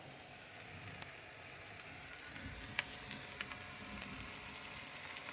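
Spice paste with home-pounded red chilli fries in a pan, giving a soft, steady sizzle with occasional crackles and faint stirring, fairly quiet and without voices.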